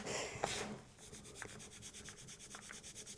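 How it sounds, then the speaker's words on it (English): Hands and fingers rub, scrunch and lift a dry bath bomb mixture of orange, cedarwood and lavender in a bowl, giving soft continuous rustling and gritty friction with a few sharper scrapes, close and quiet, without talk. "with my hand and my fingers, scrunching it, picking it up and rubbing it"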